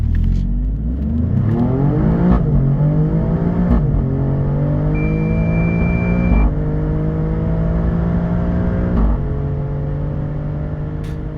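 Alfa Romeo Stelvio Quadrifoglio accelerating hard from standstill toward 100 km/h, a loud close engine roar climbing in pitch through several gears, with brief dips at each upshift.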